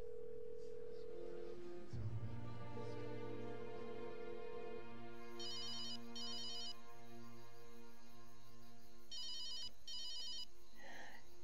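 A telephone rings on unanswered, with two paired bursts of electronic ringing separated by a pause, heard over sustained background music.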